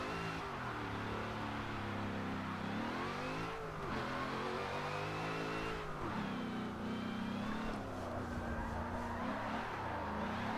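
A drift car's engine revs hard in third gear while sliding into a corner, a loud sustained motor note rising and falling in pitch over about ten seconds with no voices.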